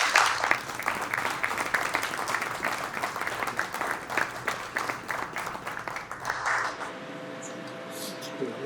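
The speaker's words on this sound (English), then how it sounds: "one more round of applause, please" Wedding guests applaud a newly married couple at their reception, a dense, steady wash of many hands clapping that carries on for about seven seconds before stopping abruptly, leaving quiet room tone.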